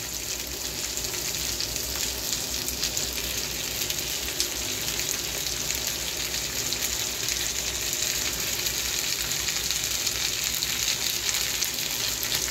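Cubed onions land in browned chicken frying for chili chicken, and a constant, even hiss of hot oil continues close by without talk.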